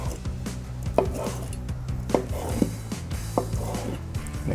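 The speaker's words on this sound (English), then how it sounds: "Now we'll cut into the next steak." Knife slicing through a medium-rare cooked steak on a board, several distinct cutting knocks against a steady low background hum, close and moderately loud.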